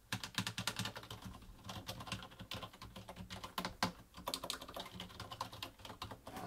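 Rapid typing on a Tt eSPORTS Challenger Go keyboard with flat, low-profile, short-travel keys, a dense stream of light clicky keystrokes at close range with no voice over it.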